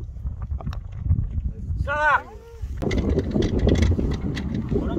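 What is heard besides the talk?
strong wind blowing on a golf course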